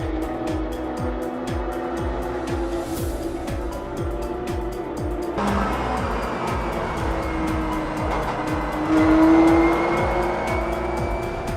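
Sports cars race at Canadian Tire Motorsport Park during the 2013 Mobil 1 SportsCar Grand Prix. Loud, continuous engine roar rises and falls as cars pass close by, with tire squeal and a louder swell near the end.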